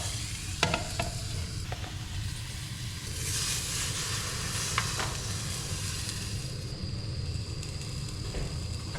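Lamb frying in a pan covered with a plate inside a mountain hut during a snowstorm, a steady close sizzle with a few sharp crackles and pops.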